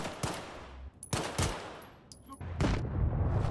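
Pistol shots in the shooter game STALKER 2: three or four sharp, close reports spaced unevenly across a few seconds, with a brief rumbling tail after the last.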